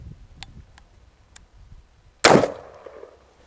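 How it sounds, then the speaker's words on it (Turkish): Ata Arms APT 5.56 infantry rifle firing a tracer round, a single loud sharp crack with a quick decaying tail, preceded by a few faint clicks. "Şimdi de izli mermi atıyoruz arkadaşlar."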